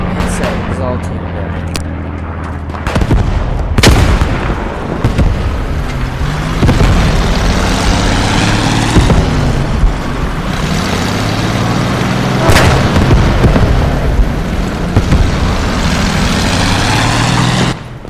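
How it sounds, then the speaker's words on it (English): Heavy booming bomb blasts in the video game Squad 44, with sharp impacts around 4 and 12.5 seconds over continuous battle rumble, gunfire and vehicle noise, loud and dense throughout with voices in the mix. "command has dropped the bomb on that"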